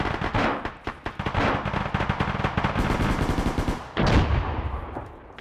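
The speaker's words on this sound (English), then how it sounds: "we are taking fire from that first building on your left" Sustained automatic gunfire pours from a building in a military video game set on an Eastern European airfield, rapid bursts crackling loudly and continuously with a heavier blast near the end.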